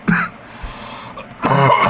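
A person coughs up close, a sharp loud cough at the start followed by a second harsher, throaty cough burst after a brief pause.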